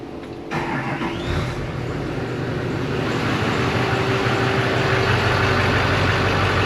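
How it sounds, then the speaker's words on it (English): An engine fitted with an oil filter bypass system cranks and catches, then settles into a loud, steady rumbling idle that builds slightly, heard up close. "Beginning engine starting sequence now."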